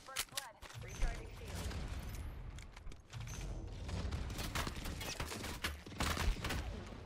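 Gunfire in the Apex Legends battle royale, rapid bursts of shots and impacts crackling over a dense layer of game sound, moderately loud, with a voice talking partway through.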